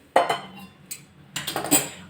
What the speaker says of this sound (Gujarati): કુકરનું ઢાંકણું બંધ કરી